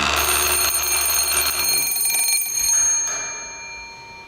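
A continuous electric bell on a coherer radio receiver rings steadily and loudly, then cuts off abruptly near the end, leaving a fading ring.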